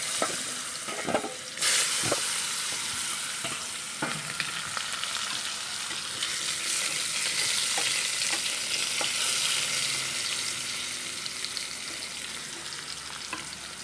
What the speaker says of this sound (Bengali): তেলটার মধ্যে আলুগুলোকে আমি ভেজে নেব